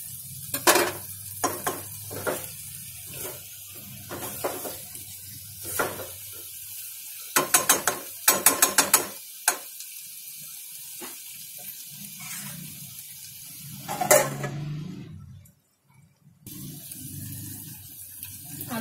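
Aloo gobi of potato and cauliflower cooking in a pan, with a continuous soft sizzle broken by repeated scraping stirs and clattering spoon strokes, followed by a brief pause near the end.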